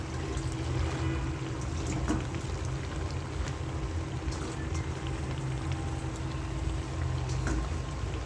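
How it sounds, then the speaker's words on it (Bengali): Drained, washed spinach dropped into a pan of cooking beef, giving a steady moderate sizzle and bubbling that runs evenly throughout with no talk. "দিয়ে দিলাম পানি ঝরিয়ে।"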